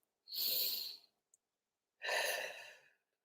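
Two deep, slow breaths, each a long airy exhale lasting under a second, separated by a pause, close and clear with no other sound around them.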